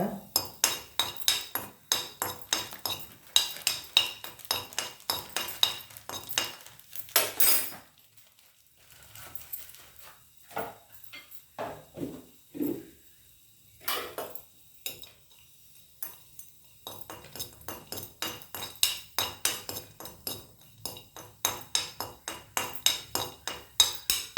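Whole spices for homemade sambar powder are dry-roasted in a pan, with a spatula scraping and clinking against the metal in a steady rhythm. The noise comes in dense bursts with a quieter stretch in the middle.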